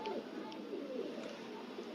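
Soft, low pigeon cooing continues steadily over a constant background hum, fairly faint and somewhat distant, with no voices.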